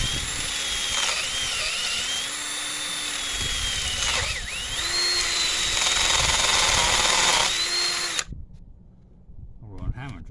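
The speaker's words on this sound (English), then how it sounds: "let's drill out this 28mm depth and see how we go with this" A power drill whines loudly and steadily, its pitch dipping as it bites into metal while drilling out a stripped injector bolt hole in a 2009 Mercedes C220 CDI engine, then cuts off before a few clicks and handling noises.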